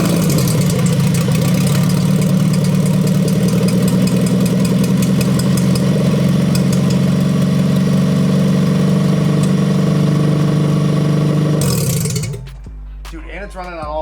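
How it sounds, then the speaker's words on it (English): A freshly swapped Honda engine with a fully built LS VTEC setup runs at a steady, loud idle for about twelve seconds, then cuts off abruptly, leaving faint handling noises behind. "Dude, and it's running on all four too."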